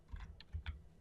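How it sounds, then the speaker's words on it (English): Keyboard shortcuts are tapped out on a computer keyboard: a few quiet, close clicking keystrokes in quick irregular bursts, with no voice over them. "I'm using the keyboard shortcuts to get to the superscript and the subscript"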